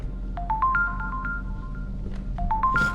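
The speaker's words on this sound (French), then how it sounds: "Putain cette sonnerie." Phone ringtone in a horror video game, a rising sequence of electronic beeps played twice with a pause between, moderately loud over a low background hum.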